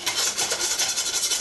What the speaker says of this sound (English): just going to scrape a little bit off the bottom